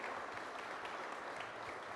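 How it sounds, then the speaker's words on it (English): Steady applause from an audience honoring legislators at a Washington police reform bill signing, a dense, even patter of many hands clapping at moderate distance with no voices. "Can you just applaud all the legislators who worked on this?"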